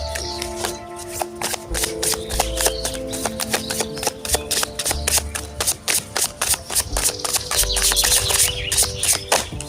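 Tarot cards shuffled outdoors on a sunny day for a reading, giving a close, loud run of rapid riffling flicks and slaps that continues without a break for several seconds.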